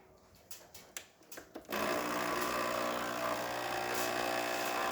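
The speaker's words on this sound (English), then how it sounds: "Now we're going to test hot water." A Breville Barista Express espresso machine starts dispensing hot water after a repair, a sudden loud, steady pump drone and rushing flow that holds without a break.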